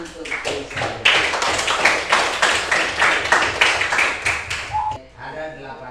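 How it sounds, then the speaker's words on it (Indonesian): A primary-school class claps in unison for a pupil, a rhythmic series of sharp group claps for about five seconds, followed by a teacher speaking. "Bagus, tepuk tangan untuk Kesha."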